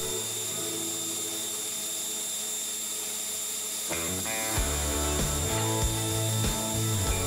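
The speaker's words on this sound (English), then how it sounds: "I used the band sander to grind it a little smaller." A band sander whines steadily for a few seconds, then the tone drops and wavers as a piece is pressed against the belt and ground down, with grinding bursts under the motor hum.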